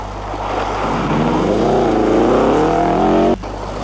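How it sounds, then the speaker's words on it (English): A turbocharged Subaru rally car at a 1987 Alpine rally passes with a loud, rising engine drone whose pitch sweeps upward as it nears, then cuts off abruptly, over a steady low rumble. "The next car through was the turbocharged Subaru of Team Tolcher"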